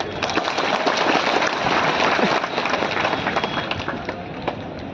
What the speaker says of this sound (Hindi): एक तालियां सभी के लिए बजती है जी